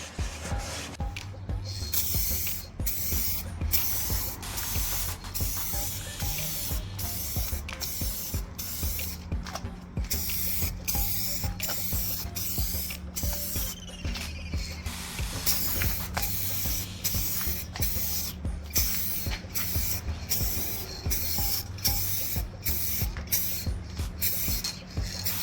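Continuous hissing spray of a paint can laying a light dust coat on Nissan Skyline R34 interior parts, steady and close with brief pauses between passes and no talking.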